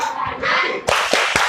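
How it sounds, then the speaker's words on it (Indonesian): Elementary school class clapping a 'tepuk hebat' chant, sharp rhythmic hand claps in a quick patterned burst, loud and close, with chanting voices mixed in. "tepuk hebat"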